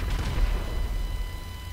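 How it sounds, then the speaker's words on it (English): Explosions in GTA 5 Online gameplay during a helicopter fight: a loud, rumbling low boom that opens the clip, then decays into a fading roar. "What was that? 3 explosions."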